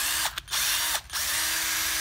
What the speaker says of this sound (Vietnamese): Thì đối với cái dòng khoan pin Makita 12V này nó có 18 cấp độ khoan pin bán vít